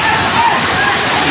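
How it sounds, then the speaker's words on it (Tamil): Water pouring heavily down a waterfall at Tiruparappu, a steady broadband rushing wash with no break, close and loud throughout. "தண்ணி அருவியில் வேறு கூடுதலாட்டு பாயுது"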